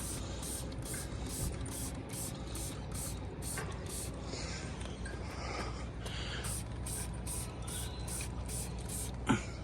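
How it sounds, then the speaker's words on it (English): A garden sprayer mists graffiti remover onto a tagged wall in a steady, continuous hiss that runs throughout at moderate loudness, over low background noise and ending in a brief sharp knock. "I normally do this with a garden sprayer so I don't have to hurt my hands as much"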